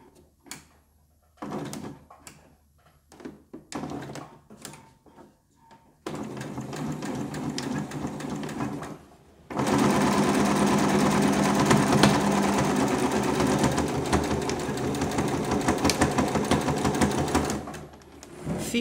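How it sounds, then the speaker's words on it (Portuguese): A sewing machine stitching a hem on eyelet fabric for a dishcloth made from fabric scraps, short stop-start bursts and clicks first, then a long, steady, loud run of close mechanical stitching. "faço uma bainha de um dos lados"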